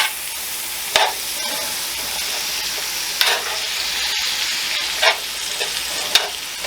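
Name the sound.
steak and baby bella mushrooms frying in pan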